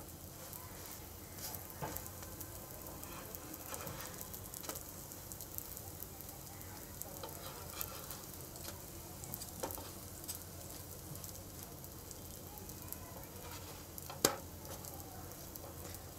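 Potato roti roasting until crisp in oil on a pan, a faint, steady sizzle and patter running throughout with a few soft scrapes and one brief clink.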